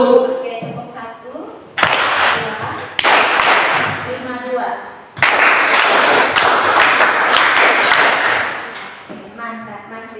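A class of students claps together in a rhythmic pattern, loud, close bursts of clapping in several timed groups, with a teacher's voice speaking briefly before and after.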